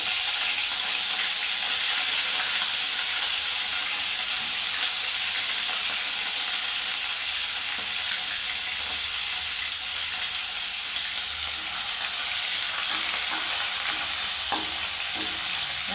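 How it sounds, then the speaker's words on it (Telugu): Steady loud sizzle of dried fish pieces frying in hot oil in a kadai, a continuous bright crackle with occasional stirring scrapes and no voices. "కడాయి వేడయ్యాక ఆయిల్ వేసుకోవాలి సరిపోయేంత ఆయిల్ వేడయ్యాక ఈ చేప ముక్కలు వేసుకోవాలి"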